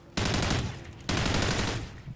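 Two rapid automatic-fire bursts from a gun in Call of Duty: Ghosts, each about a second long with densely packed shots, loud and close.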